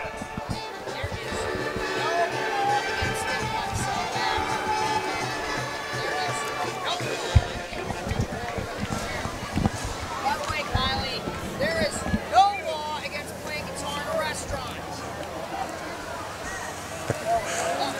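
Crowd at a high school football game, a continuous stadium hubbub that swells into cheering in bursts, with commentators talking over it throughout.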